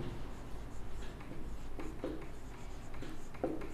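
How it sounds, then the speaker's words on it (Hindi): Pen or marker writing on paper or a board while working a maths problem, soft continuous scratchy strokes with a few slightly firmer marks over a quiet background hiss. "तो हम इसको लिख लेते हैं, पहले लिखेंगे माना"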